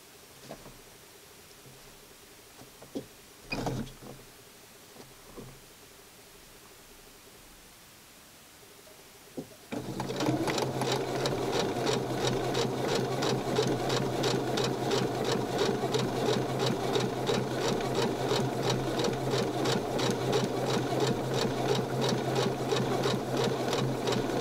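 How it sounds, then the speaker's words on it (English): A sewing machine stitches the ends of a Barbie holiday outfit together, starting abruptly after a quiet stretch with a few small clicks and handling noises, then running loud and steady at close range. "sew the ends a little bit together"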